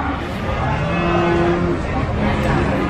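A Simmental breeding cow that has calved once moos loudly and close by at the Nglangon livestock market in Sragen, Central Java, one long drawn-out call over a steady murmur of market noise.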